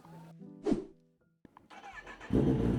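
A 1000cc superbike revs through a full carbon exhaust, with a short throttle blip, a pause and then a loud, rasping burst of engine roar close by.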